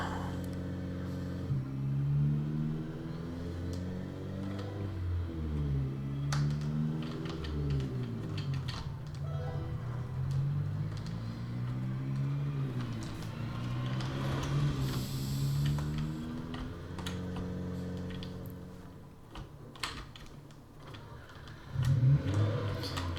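A car engine drones while driving in the video game Project Zomboid, a steady, close motor tone that rises and falls in pitch as the car speeds up and slows, then changes near the end.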